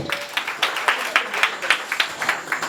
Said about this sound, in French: Merci d'applaudir le représentant du DCF